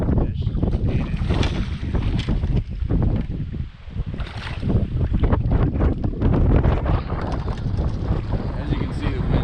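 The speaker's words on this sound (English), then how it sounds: "the wind is gassing right now" Strong wind buffets a bass fishing boat out on open water, a loud continuous roaring rumble close to the microphone with a brief lull partway through.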